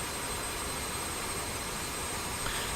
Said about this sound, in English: I will be decreasing the engine noise because it's just too much